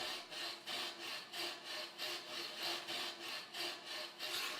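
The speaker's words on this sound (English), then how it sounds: "they use a mallet and a flat chisel to create an outline of the design" Mallet strikes on a flat chisel carving an outline into wood at a traditional Tibetan arts workshop, a steady run of about a dozen evenly spaced, close, rasping taps.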